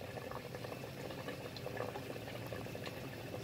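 Thai green curry boiling in a pot, a soft, steady bubbling simmer that continues evenly at low volume with no talking.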